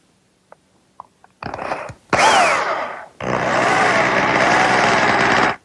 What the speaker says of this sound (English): The first thing I want to do is drill a hole through the tenon of the short rails.